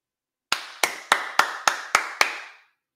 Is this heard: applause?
yes